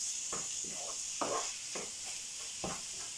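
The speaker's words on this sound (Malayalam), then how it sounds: "ഈ മസാല എല്ലാം ഈ ചിക്കനിലും ഗ്രീൻ പീസിലും ഒക്കെ നന്നായിട്ടൊന്ന് പിടിക്കണം. അപ്പം നന്നായിട്ടൊന്ന് ഇളക്കി കൊടുക്കുക." Chicken pieces and green peas being stirred through masala in a pan, with a few distinct scraping strokes over a steady soft sizzle, close by.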